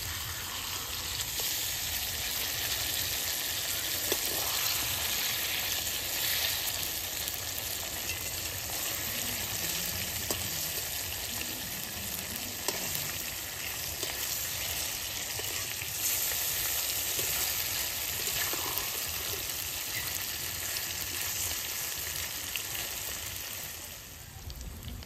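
Koi fish fry in hot oil in a pan at home, producing a continuous loud crackling sizzle that holds for the whole stretch, close up, with a few faint clinks and no talking.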